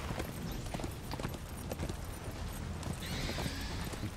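Horse hooves clip-clopping in a galloping rhythm in the Darksiders video game, a rapid run of repeated thuds with some mechanical clatter behind, no talk.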